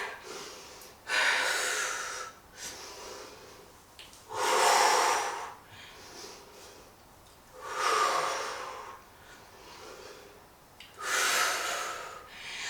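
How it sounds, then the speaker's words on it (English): Deliberately exaggerated breathing during a full-body no-equipment workout, four loud, drawn-out breaths spaced a few seconds apart, each a forceful rush of air close to the microphone with quiet gaps between. "I am exaggerating so you can understand when I'm exhaling and inhaling."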